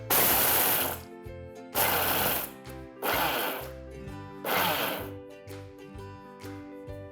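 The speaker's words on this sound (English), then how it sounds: "Now we're going to just blend this in the mixer." A kitchen mixer grinder pulse-blends a dry chutney of ginger, garlic and dhania in four loud whirring bursts, each cutting off sharply and followed by the rattle of the jar as the motor winds down.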